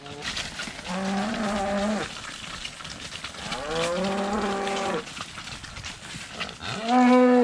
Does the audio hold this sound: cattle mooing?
yes